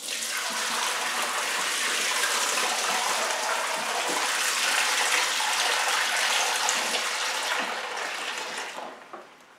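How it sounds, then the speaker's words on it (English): Dirty water gushes steadily out of the recovery tank of a Bissell PowerWash Premier carpet washer, a loud, continuous splashing pour lasting several seconds before tapering off near the end. "you'll see all the dirty water coming out of the tank"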